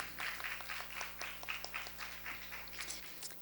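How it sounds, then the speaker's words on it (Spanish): Applause from a forum audience: a steady, fairly soft wash of many hands clapping, continuous and evenly dense throughout, heard from the room without talk over it. "Fuerte aplauso para Diana y gracias por venir."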